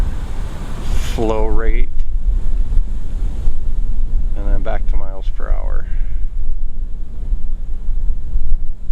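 Strong wind roars and buffets the microphone continuously, with someone speaking briefly over it.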